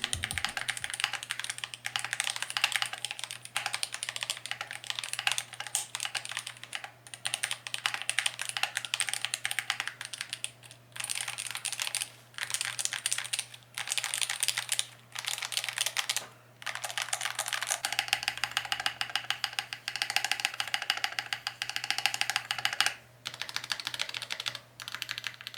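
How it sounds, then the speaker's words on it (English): Rapid, steady typing on an AKKO magnetic Hall effect mechanical keyboard, dense clacking keystrokes close up with a few brief pauses, a faint low hum beneath. "Here is a quick typing test to hear how it sounds."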